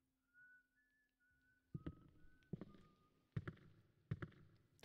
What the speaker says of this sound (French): c'est glauque comment il siffle